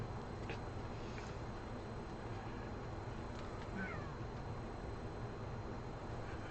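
A pet gives a faint, brief meow partway through, half buried under a constant, loud broadband background hiss.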